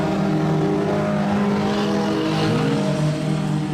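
Junior sedan race cars roar around Rockhampton Speedway, several engines droning loudly together and shifting in pitch as they pass close by, with no speech audible over the din.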